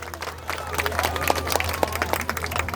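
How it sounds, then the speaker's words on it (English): An audience at a bald eagle flight demonstration at African Lion Safari breaks into scattered applause and cheering, fairly distant and moderate, beneath a steady low hum and a speaker's amplified voice. "Let's give her a big round of applause."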